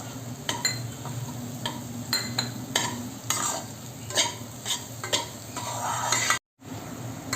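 A spoon stirs almond and walnut halwa in a pan after sugar goes in, giving soft repeated scraping strokes over a low steady sizzle, close and clear, with a short silent break near the end.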